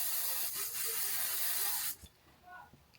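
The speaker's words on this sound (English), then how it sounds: "Let me spray that again." Hairspray sprayed from an aerosol can in a steady loud hiss for about two seconds, then cut off, followed by faint voice sounds.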